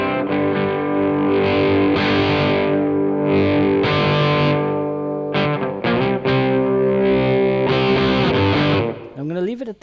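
An electric guitar plays sustained chords and notes through a Texan Grit treble booster with the guitar volume rolled back, giving a loud, lightly distorted tone near edge of breakup.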